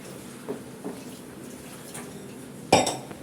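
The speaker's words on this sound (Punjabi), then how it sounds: "ਉਹਦੇ ਨਾਲ ਆਪਣੇ ਭਾਂਡੇ ਇਦਾਂ ਕਰਕੇ ਤੁਸੀਂ ਸਾਫ਼ ਕਰ ਸਕਦੇ ਹੋ" Dishes being washed with homemade lemon peel dish liquid: soft scattered clinks of crockery in a quiet room, then one louder, sharper clatter of dishes near the end, with no talking.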